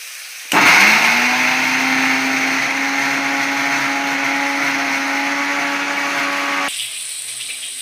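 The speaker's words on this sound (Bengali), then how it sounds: "আদা, রসুন, পেঁয়াজ আর টমেটো এগুলো এবারে পেস্ট করে নেবে" A blender starts abruptly and whirs at a steady high pitch for about six seconds, grinding ginger, garlic, onion and tomato into a paste, then cuts off.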